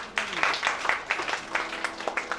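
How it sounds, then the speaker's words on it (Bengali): A small concert audience gives short, uneven applause, with a few separate claps rising and falling, fairly faint, and light voices in the background. "সকলের জন্য নিজেদের জন্য একটা জোরে হাততালি হতে পারে।"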